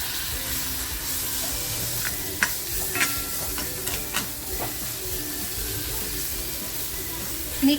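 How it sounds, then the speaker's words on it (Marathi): Tomato tossed into masala frying in a pan for a dry fish curry gives a steady sizzle, with a few sharp stirring clinks and scrapes standing out near the start and again at the end. "मसालासुद्धा आपला छान फ्राय झालेला आहे आता जो टॅमॅटो घेतला होता ना तो टॅमॅटो टाकते"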